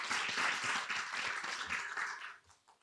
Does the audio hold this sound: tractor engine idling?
no